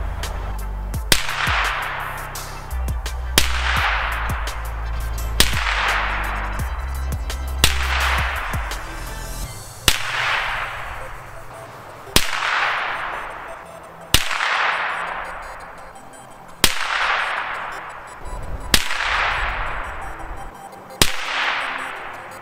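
Aguila Interceptor Hollow Point rounds are fired in nine sharp, loud gunshots, spaced about two to three seconds apart. Each crack is followed by a long, fading echo, with a low rumble early on and no talking.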